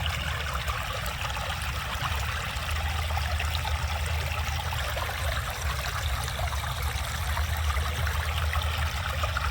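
Water runs steadily into a field channel with a constant close trickling rush of moderate loudness and no voices.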